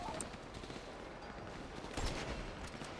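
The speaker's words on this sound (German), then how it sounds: "Ach, dann schieße ich ihn." Gunfire from a shooting sequence in GTA Online, a dense, continuous crackle of shots with a slightly louder burst near the two-second mark, sitting at a fairly constant level throughout.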